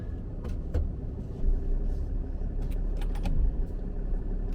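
Steady low road rumble from inside a moving truck, with occasional faint clicks and rattles over the drone.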